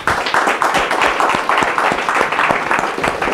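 An audience claps for the camera crew filming a French science talk, a moderate round of applause with distinct individual claps, fairly close and steady.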